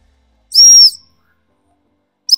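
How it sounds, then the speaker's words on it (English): A dog-training whistle blown as a command to a working Cocker spaniel in the field: one loud, shrill blast of about half a second, then a brief second toot near the end, with no voices. "I'm not always doing my whistle commands right because I have to spit a whistle out"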